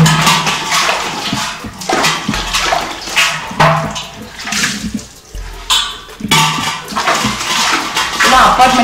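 Water splashing and running over scrubbed brass and copper vessels, with metallic clanks and clatter as pots are handled and rinsed, close and loud with brief pauses.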